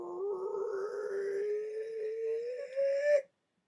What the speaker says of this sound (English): That's the sound of a door. Squeaky door opening.